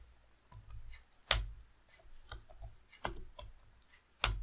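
Typing on a computer keyboard while writing CSS, with sparse, close key clicks and a few sharper clacks spaced irregularly over a quiet background.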